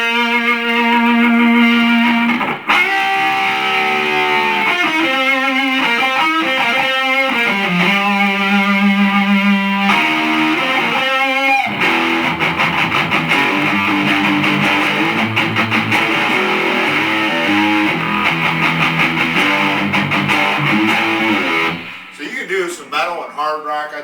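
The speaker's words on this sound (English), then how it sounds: "That's the gain up all the way, but that's preamp distortion." An electric guitar played through the lead channel of a Kustom Coupe '36 combo amp with the gain fully up gives heavy preamp distortion. Sustained chords and riffs ring out loud and close, then a brief, choppier phrase closes the passage.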